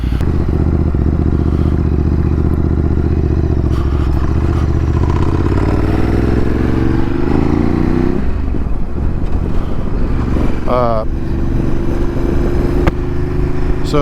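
Ducati Desert X motorcycle engine heard on the move, a loud, close, steady rumbling drone that shifts pitch as the rider changes speed, with clattery mechanical noise and wind buffeting mixed in.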